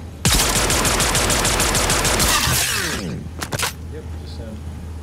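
Rapid automatic gunfire in Star Citizen rattles loud and close for a few seconds, then stops, followed by a couple of separate sharp shots and quieter ambience, with voices talking over it.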